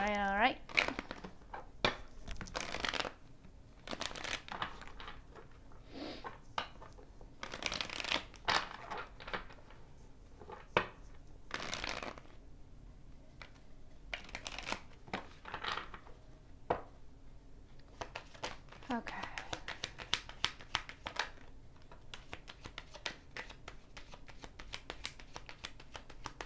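A tarot card deck being shuffled by hand, giving repeated soft riffling and slapping bursts of card noise over about half a minute, close and fairly quiet, with occasional talking between.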